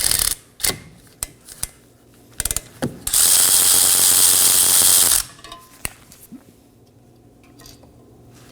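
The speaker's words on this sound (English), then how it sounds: "Now to remove our caliper from the bracket, it's held in by 2 13mm bolts." A ratchet clicks in short bursts, then gives a sustained fast ratcheting run, loosening two 13mm brake caliper bolts on a 2019-2024 Chevrolet Equinox; close and clear, with scattered metallic taps around it.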